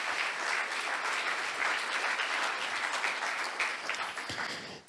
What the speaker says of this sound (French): j'aimerais entendre un applaudissement ce matin au Dieu qui veut donner la vie